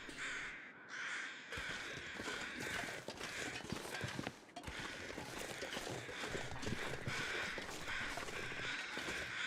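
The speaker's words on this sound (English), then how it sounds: "There's birds here." Crows caw repeatedly and loudly throughout, several birds calling over one another in a busy outdoor spot, with faint footsteps or hoof-like clopping in the background.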